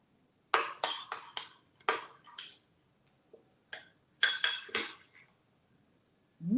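Raw walnut taco filling being mixed in a bowl, a run of short clinking utensil strokes in quick bursts with pauses between, close and fairly crisp, no talking.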